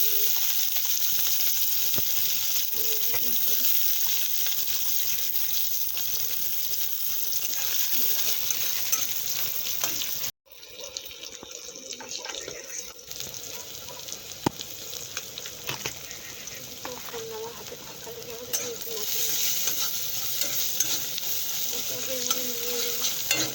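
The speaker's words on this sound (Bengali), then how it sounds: "আর বিটে আমি সম্বরা দেবো পেঁয়াজ আর রসুন, দিচ্ছি পেঁয়াজ আর রসুন" Onion and garlic sizzle in hot oil as a tempering for beetroot in a home kitchen. There is a continuous loud frying hiss with stirring clinks, a brief break midway, then the sizzle resumes strongly.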